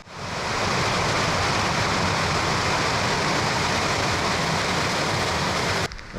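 A noisy river rushes right beside a campsite in the Black Forest region, a loud, steady broadband roar of flowing water heard up close, continuous for several seconds before cutting off near the end, with no voices.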